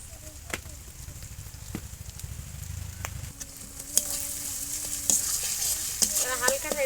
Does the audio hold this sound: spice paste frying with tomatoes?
yes